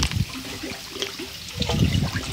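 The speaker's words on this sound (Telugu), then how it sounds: "తర్వాత ఈ కర్ర పెట్టి బాగా కలపాలి." A stick stirs waste decomposer solution in a drum, giving a churning, sloshing swirl of water with splashy surges at the start and end, close and without talk.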